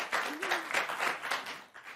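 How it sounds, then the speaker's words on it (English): Studio audience at a televised news show applauds, a brief, sparse round of clapping of moderate loudness with a faint voice tone briefly over it. "That was pity applause."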